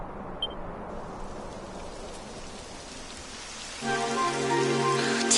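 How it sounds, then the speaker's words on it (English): Rain falls in the Dragon Quest 11 video game as a steady hiss of drops. Partway through, a brighter layer of pattering comes in and the sound grows louder. "It would have to go and start raining, wouldn't it?"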